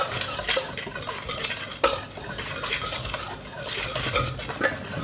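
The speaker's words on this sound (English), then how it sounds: "go ahead and add our teaspoon of salt here to this. And kind of incorporate it into the flour." A spoon stirs salt into flour for no-knead black beer bread in a bowl, with soft close scraping and a single sharper clink, no voices.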